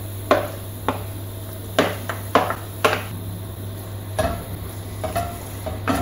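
Diced chicken breast, about 400 g, sizzles in a pan with browned onions while being stirred, with several sharp scraping and clattering strokes over a continuous frying hiss.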